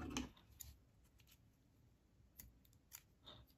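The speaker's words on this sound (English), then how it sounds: "you're going to trim this yarn tail off" Scissors trim a yarn tail on a crocheted amigurumi duck: a few faint, close snips, sharpest at the very start, in an otherwise quiet room.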